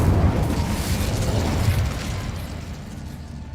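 Incendio fire spell cast in the Hogwarts Legacy video game: a loud, rumbling whoosh of flame with a low booming body that swells early, then slowly fades over a few seconds.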